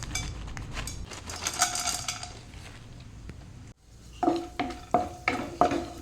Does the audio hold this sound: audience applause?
no